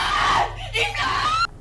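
A woman screams loudly and shrilly at night in a bedroom, a sustained wavering cry lasting over a second before cutting off abruptly.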